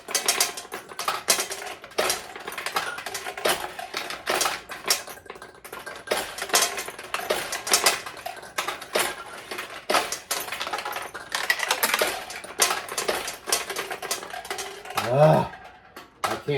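A 1969 Nishijin pachinko machine clatters continuously as steel balls rattle and tick through it, with dense irregular metallic clicks throughout and a soft voice heard now and then.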